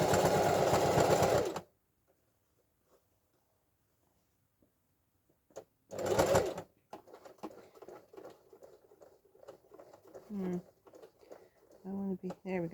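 A sewing machine stitches fabric for a letterbox pocket in two rapid whirring bursts, a longer one and then a short one, with quiet pauses, soft handling sounds and a voice speaking at the end.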